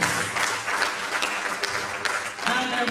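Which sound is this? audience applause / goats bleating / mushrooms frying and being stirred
audience applause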